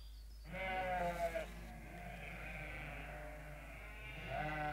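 Sheep bleat in an animated Legend of Zorro cartoon episode, one drawn-out wavering bleat up close followed by a softer second bleat near the end, over a quiet steady hum.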